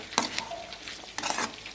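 Cabbage and chicken noodles stir-fried in a pan, two short bursts of sizzling and spatula scraping separated by a quieter gap, close but fairly soft.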